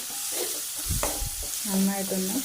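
Curry leaves and green chilies dropped into a hot pan for a beetroot stir-fry, a quiet sizzle with a clatter of stirring and some faint tonal hum, close and subdued.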